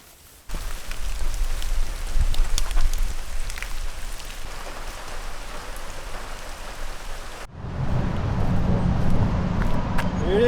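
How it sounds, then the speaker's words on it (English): Steady rain falls outdoors on the Appalachian Trail near the Pennsylvania–New Jersey state line, a continuous wash of drops that grows heavier and closer in its last few seconds. "It's been raining all morning."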